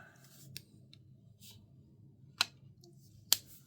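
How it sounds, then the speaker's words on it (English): Scissors snipping along the bottom outline of paper for a horizontal Dutch door spread in a creative journal, with a few sharp, quiet cuts spaced apart in a hushed room. "So what I'm going to do is cut off"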